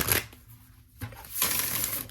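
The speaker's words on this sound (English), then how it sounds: "I'm going to shuffle." Oracle cards being shuffled by hand: a brief papery riffle, a short pause, then a longer rustling shuffle, close and moderately soft.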